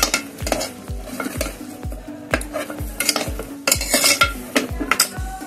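Pav bhaji vegetables sautéing in a pan with a steady sizzle, while a metal spatula knocks against it in a quick, regular rhythm of about two strokes per second, loud and close.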